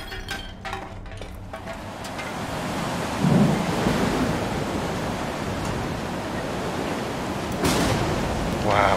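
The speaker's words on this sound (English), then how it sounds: "Wow, the lightning strikes" Thunderstorm weather in the video game STALKER 2, with lightning strikes: a steady wash of rain and rumbling thunder throughout, and louder cracks of thunder near the start and again toward the end.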